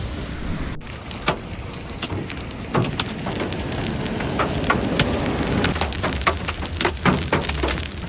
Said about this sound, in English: large hailstones like fists fall densely clearly